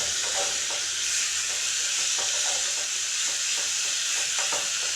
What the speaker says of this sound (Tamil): இதிலே கொஞ்சம் நேரம் வதங்கட்டும்